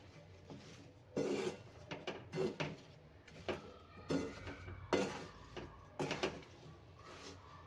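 Amla and lemon pickle mixture being stirred, irregular gritty scrapes and knocks of a spoon against a bowl in uneven bursts with quiet gaps between them, close and fairly soft.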